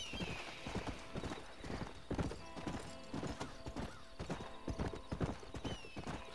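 A horse in the video game Red Dead Redemption 2 clip-clops in a steady, uneven trot of hoofbeats at moderate distance, with a whinny in the mix and no talk over it.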